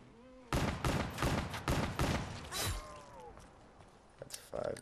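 Gunfire from Black Ops 3 Zombies, Shadows of Evil map: a rapid string of about five sharp shots, followed by a few scattered impacts and quieter game sounds.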